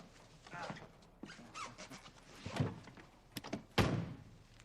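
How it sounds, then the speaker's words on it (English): A door opening indoors, with a few thunks and a squeaky slide of the door, amid soft voices and other small sounds. "Helps if you open the door."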